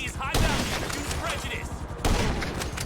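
Gunfire in GTA 5 comes as dense bursts of rapid shots, loud and close, while someone talks excitedly over them.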